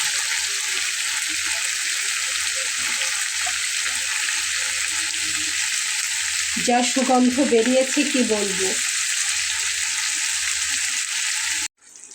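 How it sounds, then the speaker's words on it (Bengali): Chicken pieces fry in a pan and are turned repeatedly, giving a continuous loud sizzling hiss with occasional stirring scrapes. Partway through, someone speaks briefly over the frying, and the sound cuts off abruptly near the end. "মাংসটাকে জাস্ট উল্টে উল্টে কষাতে হবে, যাতে করে একটু ভাজা ভাজা হয়ে যায়।"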